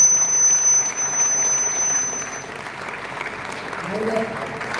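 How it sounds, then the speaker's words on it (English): A gathering at a spiritual academy's convocation and 25th anniversary ceremony gives a sustained round of applause. The clapping is dense and steady, slightly louder at first, with a faint murmur of voices underneath. "I request a loud round of applause from all of us as a thanksgiving"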